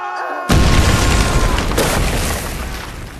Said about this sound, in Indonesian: tanpa sengaja dia melepas perin granat tersebut yang membuat gudang makanan itu meledak